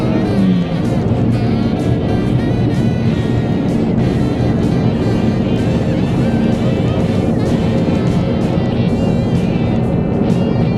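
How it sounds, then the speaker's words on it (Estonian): A car engine revs loudly and steadily up close in neutral with no gear engaged, droning without pulling away, with a brief voice barely audible underneath. "Ja see oli hääl sellest, kuidas ma unustasin käigu sisse panna."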